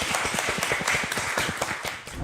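A small audience at a tech founder pitch event claps in a fast, steady patter of individual hand claps, fairly close and moderately loud.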